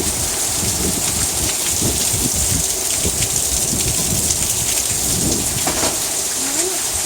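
Heavy rain pours steadily during an Oklahoma thunderstorm, a dense close hiss of drops on surfaces with low rumbling thunder underneath, constant throughout.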